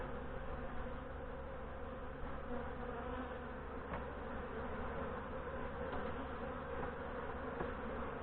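A dense, steady drone of many honey bees buzzing around an opened, queenless and aggressive hive, close and continuous with no talking.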